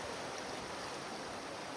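A river flows in a steady, even rush of water, faint and continuous, with no other sounds.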